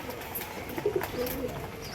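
Pigeons kept by a fancier near Kolkata coo softly in a few low, rolling calls over a steady background murmur, with no talking.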